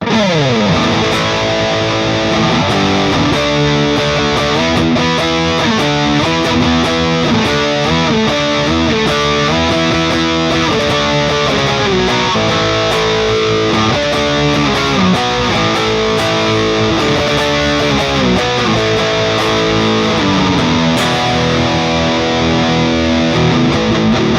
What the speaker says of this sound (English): we'll have some nice distorted tones from the Matribox 2 Pro from Sonicake.